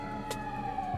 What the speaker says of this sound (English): Sorry about the sirens, we're in Nishi Azabu near Roppongi.